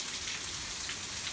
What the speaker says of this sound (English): a cold rain